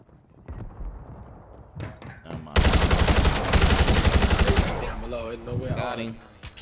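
Rapid automatic gunfire in a video game erupts in a loud sustained burst midway, under and between players' excited voices talking.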